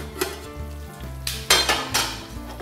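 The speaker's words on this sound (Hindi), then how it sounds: "मटन मेरा अच्छे से फ्राई हो चुका है" Mutton frying in a handi pot for a dhaba-style dish: a steady close sizzle with several louder bursts of hissing and stirring scrapes, over a low steady hum.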